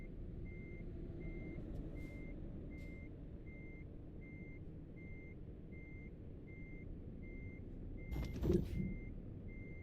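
Reversing beeps from a truck in the video game Nordic Horizons, a steady evenly spaced series of faint tones over a low engine rumble, with a brief hiss burst near the end and no talk.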